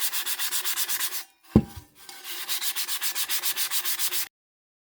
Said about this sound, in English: it could take a little while to sand a tumbler